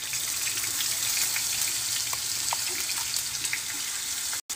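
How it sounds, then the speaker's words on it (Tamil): Ground masala paste fries in hot oil in a pan for egg chukka, giving a loud, continuous sizzling hiss with small pops and no voices. "எண்ணெய் நல்லா சூடாயிட்டோடனே நம்ம அரைச்சி வச்சுருந்த மசாலாவையும் இதில் சேர்த்துக்கலாம்."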